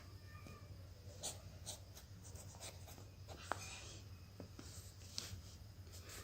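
A pen scratching on paper as an answer is written out by hand for a children's lesson, a string of short faint strokes and taps over a steady low hum.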